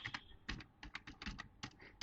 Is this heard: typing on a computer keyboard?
yes